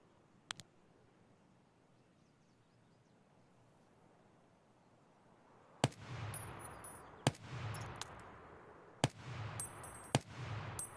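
AK-104 rifle firing single shots in Escape from Tarkov: after a quiet stretch with one faint early pop, four loud, sharp reports ring out about a second and a half apart, each followed by a booming low-end tail.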